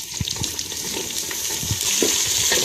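Potatoes and fava beans frying in a pan while being stirred, giving a continuous close sizzle with irregular low scrapes and knocks of the spoon, and a faint watery trickle underneath, no one speaking.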